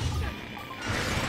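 A brief, loud crash as crates break apart from a Bouncer shot in Ratchet and Clank Going Commando, with clattering debris and a second burst close behind the first.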